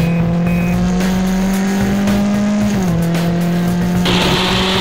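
Onboard sound of an F1600 open-wheel race car racing at VIRginia International Raceway: a loud, steady engine drone that dips near the three-second mark and is briefly joined by a tire squeal, with a brighter shift near the end.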